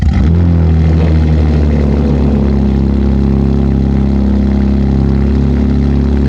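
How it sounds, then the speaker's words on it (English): A BMW G80 M3 fitted with an IRL 4-inch modular midpipe exhaust drones loudly and steadily from outside the car, a deep sustained engine note that holds without a break. "I also got the mic right here so you guys can hear some of the exterior exhaust sounds"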